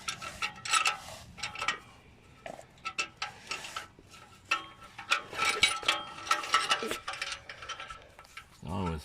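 A ratchet tightens a muffler clamp on a Jeep YJ, with bursts of rapid clicking strokes separated by short pauses, close and fairly clear, along with some metallic handling clatter.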